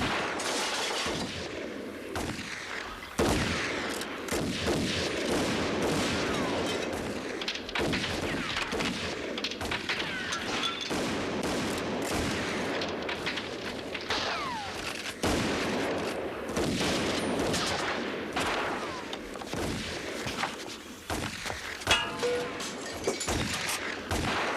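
Gunfire in a 1988 film scene, with bursts and single shots crackling repeatedly over a busy, noisy backdrop, moderately loud and continuous throughout.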